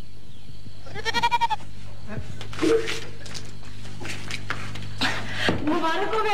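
A goat bleats several times in a wavering, nasal cry close by, mixed with people talking and some background noise.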